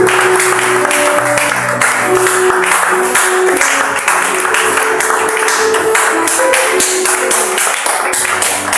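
A church congregation applauding the Lord, dense sustained clapping from a large crowd close up and loud, with a few voices mixed into the clatter.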